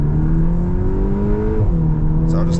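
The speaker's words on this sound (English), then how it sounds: "I can obviously provoke downshifts as I'm coming into a corner." A 2025 VW T-Roc R Wolfsburg Edition engine drones steadily from inside the cabin, its pitch rising and then dropping sharply as it downshifts entering a corner, with constant road noise underneath.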